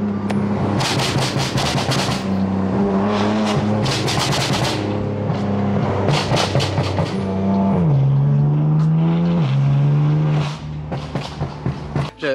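Straight-piped BMW M4 exhaust revving hard, with rising and falling engine tones, turbo whoosh and sharp crackling pops between revs, loud and close.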